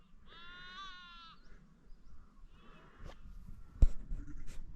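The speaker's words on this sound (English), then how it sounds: "Plenty of little sheep around, making a lot of noise" Sheep bleat in an open hillside paddock: one long quavering call from a nearby animal, then several shorter, fainter bleats from others spread across the field.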